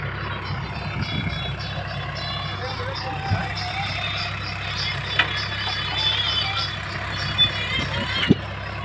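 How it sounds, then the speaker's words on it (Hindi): A Massey 8055 tractor pulls a 60-foot super seeder through a farm field, its steady engine drone continuous and fairly loud with a few brief clanks and knocks over the top. "60 फीट का सुपर सीडर है। मैसी के 80-55 ट्रैक्टर में चलाया जा रहा है।"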